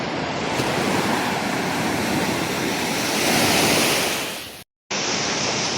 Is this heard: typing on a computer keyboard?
no